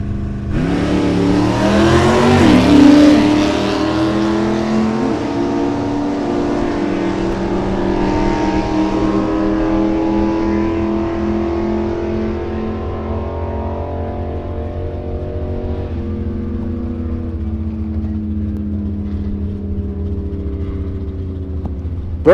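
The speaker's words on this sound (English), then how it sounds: "Kevin Leinert driving a 318 two-barrel 69 Dodge Dart" A 1969 Dodge Dart with a 318 two-barrel V8 and automatic transmission launching down a drag strip, its engine revving hard near the start, then a long rising-and-fading roar as it pulls away into the distance.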